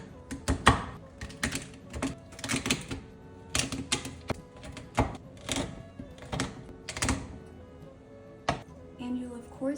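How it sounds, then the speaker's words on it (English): A knife finely chops dark chocolate on a board in quick, uneven bursts of sharp close taps and thunks, with brief pauses between runs. "The first thing we're going to do is just finely chop the chocolate."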